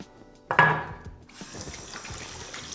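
Water is poured from a container into a bowl, a sudden splashing gush followed by quieter trickling and dripping as the last drops run out, with no talking.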